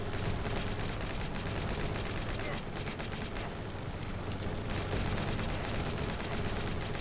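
Dense, continuous gunfire from automated turrets and sentry guns in a top-down zombie defense shooter game, rapid overlapping shots and bursts rolling on steadily at constant loudness.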